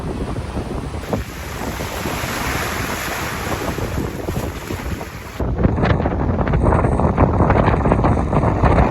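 Strong wind buffets a sailboat running downwind in gusts up to 32 knots, a constant loud roar of wind noise over rushing water that grows heavier and rougher partway through.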